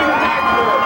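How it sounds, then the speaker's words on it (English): A high school football crowd cheers loudly from both sidelines late in a Group 1 South Jersey final between Glassboro and Penns Grove, a dense continuous roar filling the whole short moment. "this crowd has come alive on both sidelines"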